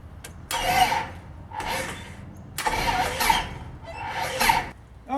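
A light aircraft engine on a RANS S21 kit build cranks in four rough, labored bursts with short pauses between them, loud and close, with no voices.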